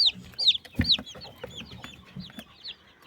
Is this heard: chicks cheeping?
yes